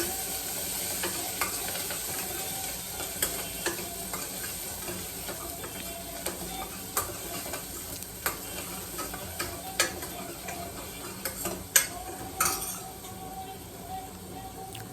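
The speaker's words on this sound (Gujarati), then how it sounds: "લીલી મેથી નાખીને એટલે હવે થોડીક વાર સાંતળવી પડે।" Fresh green fenugreek leaves sautéing in a pan, a continuous gentle sizzle with scattered clicks and spatula taps throughout, close by and without talk.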